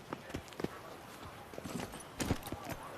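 Roach the horse clip-clops through The Witcher 3, faint scattered hoofbeats at a walking pace with ambient game sound and a voice talking over them.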